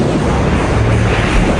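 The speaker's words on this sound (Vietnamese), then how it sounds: "Khi thủy triều tiến chạm vào bờ biển thì nó có vẻ hơi hiền lành" Ocean tide waves washing onto a seashore, a steady broadband roar of surf with wind noise, loud and continuous with no distinct breaks.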